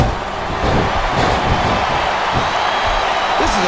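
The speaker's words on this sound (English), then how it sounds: "I think these superstars are getting some feedback from the crowd, JR." Arena crowd noise from the wrestling video game WWE Smackdown vs Raw 2007, a steady broad roar of cheering that runs loud and continuous throughout, with faint thuds beneath.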